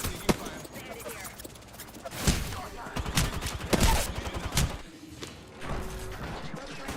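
Rapid gunfire rattles through a shooter video game, with bursts and sharp cracks that come close and loud, mixed with impacts and thuds while a person talks over the fighting.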